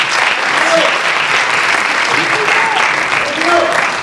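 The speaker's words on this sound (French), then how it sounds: "Vos applaudissements s'il vous plaît." An audience at an award ceremony for a mobile film festival applauds steadily, dense and sustained clapping filling the hall, with voices faintly mixed in.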